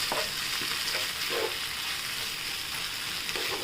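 Poha is stirred into corn upma in a hot pan, a continuous close sizzle with scraping stirs and soft clatter of the spoon, no voices.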